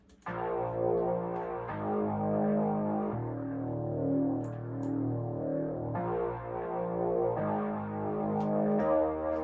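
A bright, distorted happy hardcore synth melody plays steady sustained chords with an uplifting dance feel, changing notes every couple of seconds, loud and continuous.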